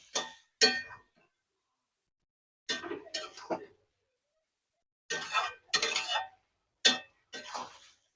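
Ridge gourd curry being stirred in a pot, giving short bursts of clinking and scraping utensil-on-metal sounds, several separate clusters with quiet gaps between them, close and fairly clear, no talk.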